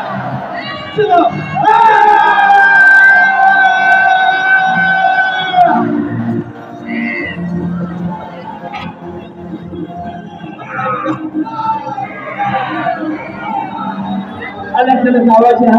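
A seminar audience yells together at full volume, a dense sustained roar of many voices for several seconds, then scattered shouts, chatter and renewed bursts of crowd noise.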